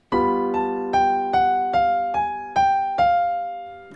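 A jazz bebop dominant line of about eight evenly spaced notes on a keyboard instrument, each struck clearly with a ringing decay, played alone at moderate volume.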